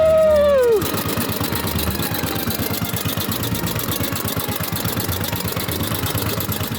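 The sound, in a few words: 115-year-old motorcycle engine running while riding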